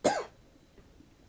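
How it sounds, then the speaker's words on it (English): A single short, loud cough bursts out at the start, followed by quiet near-silence with faint low murmurs. "I keep coughing"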